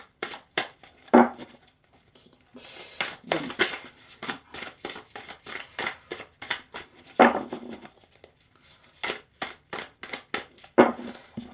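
A deck of tarot cards being cut and handled close by, a run of quick crisp flicks and snaps in bursts, with soft rustling between them.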